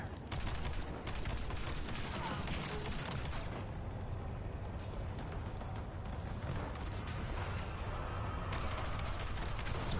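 A VTOL gunship fires in an online shooter game, producing dense, sustained rapid gunfire and explosive rumble that fills the whole stretch at a steady, loud level without a pause.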